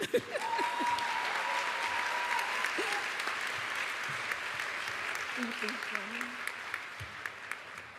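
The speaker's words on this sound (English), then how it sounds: "You can clap." Sustained applause from an audience at a graduate school of education convocation ceremony, steady and dense throughout, with a few faint voices and cheers rising above the clapping.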